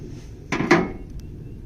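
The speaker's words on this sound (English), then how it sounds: "I used an 1 1/16" socket to drive the bushing back in. Drive it in until it hits." A 1 1/16-inch socket is struck to drive a bushing into the steering column of a Kubota L2500 tractor: two sharp, close metallic knocks in quick succession, then quiet.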